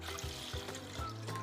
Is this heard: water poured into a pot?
yes